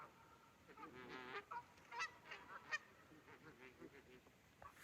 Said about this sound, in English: those beautiful, lovely Canadian geese are back.